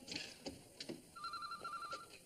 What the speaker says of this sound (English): Hello, Eric Slatt's phone